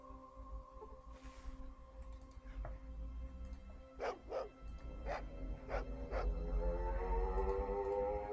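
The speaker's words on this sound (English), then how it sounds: "Woof woof woof, Laddie jumps on you and starts to lick your face." A dog in the video game Fallout 2 barks in a quick burst of four or five sharp woofs, preceded by a couple of single barks, over a low game ambience hum.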